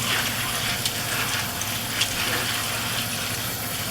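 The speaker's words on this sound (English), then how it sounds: "So you're just gonna wash this with water." Steady running tap water splashing continuously at close range over lentils being rinsed, with faint clinks underneath.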